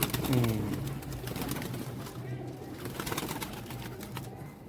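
A large fancy pigeon gives a loud low coo at the start, followed by softer continued cooing and background rustle.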